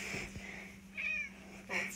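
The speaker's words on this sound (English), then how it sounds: "So I have to make her meow 10 times?" A cat meows several times in short, separate calls during a truth-or-dare game at home, fairly close and moderately loud, with quiet background between calls.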